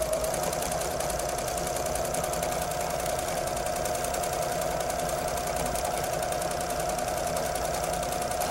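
Sewing machine with a wing needle stitching a honeycomb pattern down the middle of fabric, a steady close mechanical whirr with rapid even needle ticking throughout.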